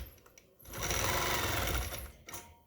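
A long-arm quilting machine stitching in the ditch on a vintage double wedding ring quilt, a loud close whirring run of about a second and a half that starts and stops abruptly, with quieter mechanical clicks before and after.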